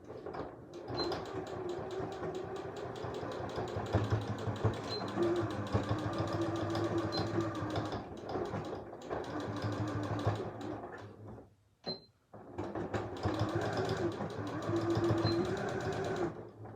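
A sewing machine runs close by while stitching a fabric face mask, a steady, loud mechanical whir that stops twice briefly and then resumes. One stop is near the middle of the run and the other comes near the end.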